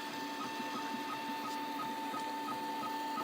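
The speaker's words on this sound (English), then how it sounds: "the printer is really nicely tuned at the moment, so it's been printing out these parts very well" A well-tuned 3D printer works through parts in fluorescent pink filament, its stepper motors whirring and ticking steadily in a regular rhythm, close by.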